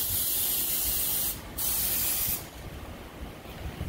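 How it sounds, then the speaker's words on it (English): Fogger spraying an anti-microbial sanitizing solution inside a vehicle, a loud, continuous close hiss that briefly dips and then resumes, with no voices. "he's spraying this solution that fogs up in the vehicle, and it runs through the circulation in the automobile, and it forms a mist"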